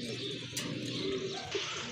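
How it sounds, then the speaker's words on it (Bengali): Hyderabadi breed pigeons cooing nearby, soft low throaty coos repeating over a brief moment against a faint background, with no talk. "এটা কিন্তু হায়দ্রাবাদি ব্রিডের কবুতর, খুবই সুন্দর"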